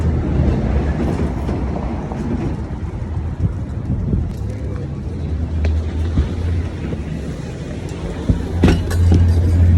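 A New York subway 7 train bound for 34th Street–Hudson Yards rumbles along from inside the car, with continuous loud low roar, wheel clatter and occasional clanks and squeals.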